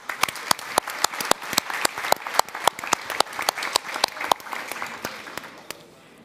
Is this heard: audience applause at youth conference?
yes